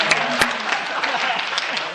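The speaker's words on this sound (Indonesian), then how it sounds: "Ya, tepuk tangan." An audience claps at an Indonesian education talk during a graduation event, a short, steady burst of close applause with a voice briefly cutting through.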